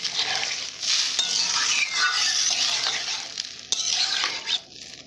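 Potato curry frying in a pan hisses loudly as water is poured in, a bright, continuous sizzle with stirring scrapes that swells, dips around the middle and flares again before fading near the end.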